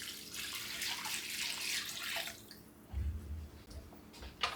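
Water pours and splashes into a pot for split pea soup for a couple of seconds, then fades into quieter dripping and a few low thumps.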